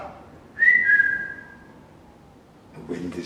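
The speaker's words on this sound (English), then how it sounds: "I whistle." A person whistles one clear, sustained note that drifts slightly downward and fades, and a voice starts briefly at the end.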